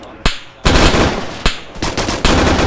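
Gunfire in the military shooter game Arma 3: close, loud sharp shots, first two single cracks, then bursts of rapid automatic fire with a brief gap between them.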